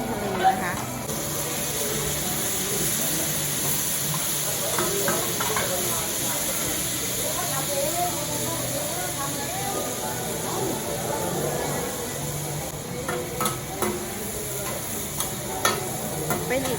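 Pad Thai stir-fried at a stall in a Thai temple market, a steady sizzle and hiss with scraping and stirring in the pan, while someone talks over the cooking.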